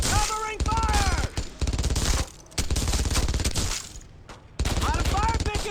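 Dense, loud gunfire from the game Brothers in Arms: Earned in Blood, with rapid bursts and repeated volleys crackling almost without pause, briefly dropping out twice, while voices shout over the shooting.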